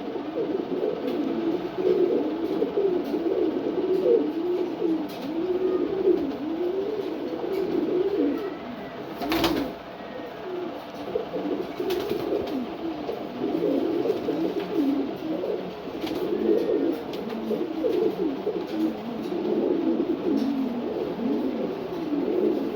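Sobji gorra pigeons coo in soft, repeated rolling phrases, close and continuous, with a brief sharp rustle or knock partway through.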